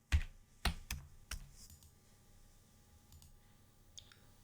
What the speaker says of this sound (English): So I simply click this button here.